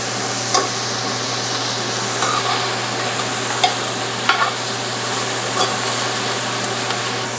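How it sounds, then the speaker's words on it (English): Lobster shells searing in a high-walled pan before a cognac flambé, with a loud, constant sizzle and periodic scraping stirs. No one speaks. "we'll flambe with cognac."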